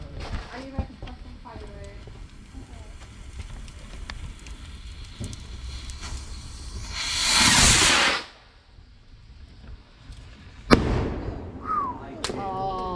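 Bonfire Night fireworks fizz and crackle outdoors, with a loud rushing hiss as one launches, then a sharp bang and a whistling rocket, amid chatter and shouts from a crowd nearby.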